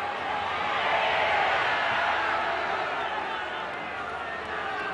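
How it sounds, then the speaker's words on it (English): A large rugby league stadium crowd at a 1997 Optus Cup match between Manly and Sydney City lets out a broad, sustained groan that swells and then slowly eases, steady and distant. "Groan from the crowd."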